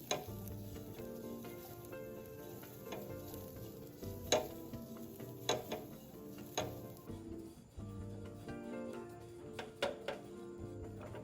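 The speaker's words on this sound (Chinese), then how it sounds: "接着再将备好的蒜末也加进来，一起炒香。" Minced garlic stir-fried with preserved radish in a hot pan gives a soft, steady sizzle broken by sharp clacks and scrapes from the spatula, close and with no talking.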